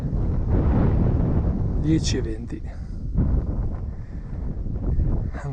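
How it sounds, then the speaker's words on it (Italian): Wind buffets the microphone on a cloudy hiking trail near Sasso Simone e Simoncello in Italy, a loud, rough low rumble that surges and eases while a person speaks briefly. "Nuvoloso, ventoso, ma assolutamente gradevole oggi."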